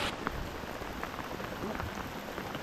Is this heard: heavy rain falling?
yes